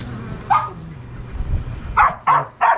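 A pitbull dog barks close by: one sharp bark, a pause with faint low rumbling, then a quick run of three barks.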